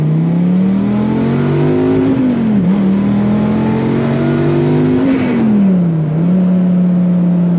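A black fifth-generation Dodge Viper GTS revs its engine loudly and close, a deep steady drone that climbs twice and then drops back, with no talking over it.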